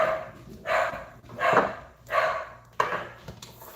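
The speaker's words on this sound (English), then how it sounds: "my dogs are getting ready to bark because somebody's pulling up" Several dogs barking in loud, irregular bursts, about four clustered outbursts close by as a vehicle pulls up outside, with yips mixed in.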